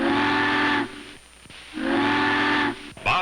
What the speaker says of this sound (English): Bob listens for her to signal for the bridge. 3 long whistles.